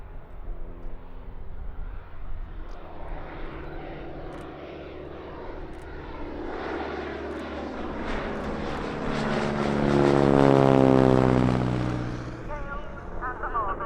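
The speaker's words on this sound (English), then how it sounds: "a pair of Radial engine trainers rolling from the grass" A North American NA-64 Yale and a T6 Harvard Mark IV, radial-engine trainer aircraft, rolling from the grass at Duxford airshow, a droning engine growl that builds to a loud peak as they pass, then eases off.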